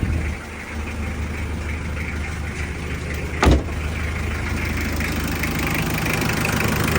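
A 2016 Mitsubishi Adventure GLS Sport engine idles after a cold start, a steady, close, loud rumbling hum with one sharp click partway through.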